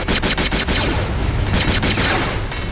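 Rapid gunfire in Star Wars Jedi Knight 2: Jedi Outcast crackles in a fast string of loud, close shots, the volley running steadily with no talk over it.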